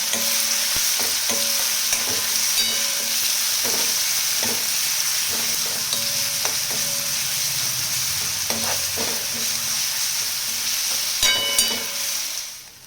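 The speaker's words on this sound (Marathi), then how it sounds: "आता चांगली परतून घ्यायची तेलामध्ये सगळं" Coconut, coriander, garlic and ginger paste fries in oil for a home-style dal and brinjal dish, a steady close sizzle broken by repeated scraping stirs of the spoon against the pan.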